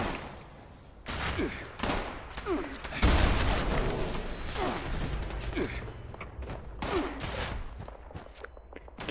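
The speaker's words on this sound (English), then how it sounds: "I don't know who's shooting me" Gunfire in Fallout 76, rapid bursts of shots and clatter near and loud, mixed with footsteps and mechanical game sounds, continuing steadily for several seconds.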